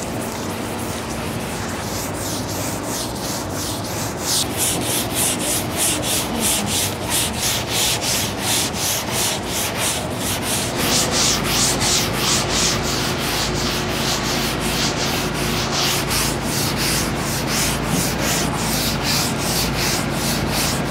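Hand block sanding across a car's quarter panel in a cross-hatch pattern during dent repair bodywork, a steady rhythmic rasping scrape of repeated back-and-forth strokes, close and continuous for the whole stretch with no talking.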